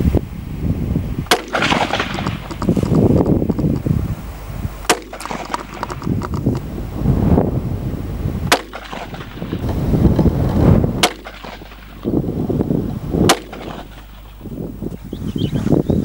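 Centrefire rifle firing during barrel break-in, five sharp loud cracks spaced several seconds apart, with rumbling noise and handling sounds between the shots.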